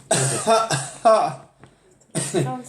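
A few harsh coughs and throat-clearing bursts, close by, with short pauses between them and a voice making sounds in the gaps.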